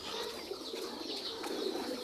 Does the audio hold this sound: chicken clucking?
no